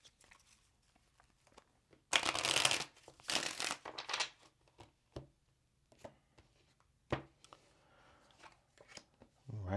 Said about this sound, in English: let's get this last shuffle